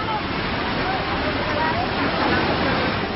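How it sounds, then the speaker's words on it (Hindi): Rushing floodwater torrent in Uttarkashi, Uttarakhand, a loud, steady broadband roar of churning water that fills the whole clip without let-up, with no clear voices over it. "पानी की ये धार किसी को भी डरा सकती है"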